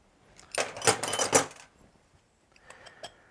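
Metal fire extinguisher bracket being pulled apart at its base plate mount: a quick cluster of sharp metallic clanks and rattles, close and fairly quiet, followed by a few fainter clicks after a pause.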